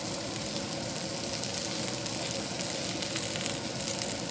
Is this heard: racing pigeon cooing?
no